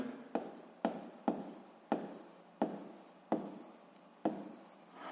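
Pen writing by hand on paper while working a physics exercise, six separate scratchy strokes in steady rhythm, close and fairly quiet, with no talking.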